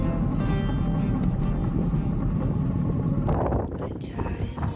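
Steady wind buffeting the microphone on the Irish coast near the Giant's Causeway, a loud broadband rumble that drops off briefly near the end before gusting again.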